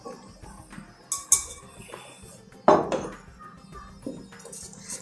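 Roasted flour goes into a pan while making karadaiyan nonbu adai, with a few sharp metal clinks and clatters of utensils against the vessel, spaced out amid quiet handling sounds.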